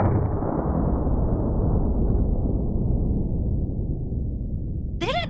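A double-barrel shotgun fires both barrels at once in a single loud, close blast that rumbles and decays for several seconds, followed by a brief high electronic beep at the end.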